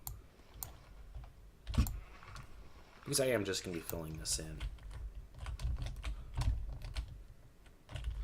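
A computer keyboard is being typed on during a modded Minecraft game session, the rapid clicks and clacks running throughout, with a burst of quick keystrokes in the middle, all under continuous close talking.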